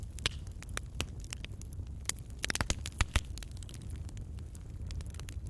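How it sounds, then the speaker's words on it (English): An open fire crackles with irregular sharp snaps and pops, a few louder clusters standing out over a steady low rumble, with no voices. "Hearing the crackle of fire."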